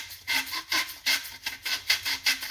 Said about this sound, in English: work this hilt back and forth just like this